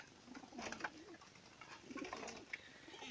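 A pigeon coos softly a few times, low murmuring calls close by against a faint background hum.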